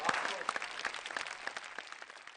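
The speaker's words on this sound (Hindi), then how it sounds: "हम जोरदार ताली से स्वागत करते हैं पंडित विश्वेश्वर शर्मा जी" An audience applauds loudly to welcome the performer Pandit Vishweshwar Sharma onto the stage at a poetry and comedy show. Dense, steady clapping continues with sharp individual claps standing out.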